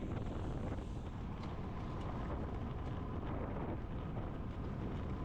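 Strong wind buffets the microphone outdoors at a women's road bicycle race in California, a constant loud rumbling roar with no break and no talking.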